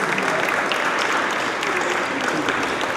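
An audience in a hall claps together in sustained, dense applause, loud and even throughout with no speech over it.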